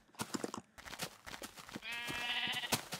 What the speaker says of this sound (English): Nice, ton of sheep.